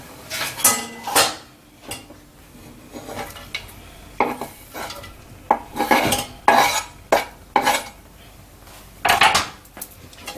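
Onions stirred in butter in a saucepan with a utensil: irregular metallic scrapes and clinks against the pan in short bursts, close and clear, with a faint sizzle between them.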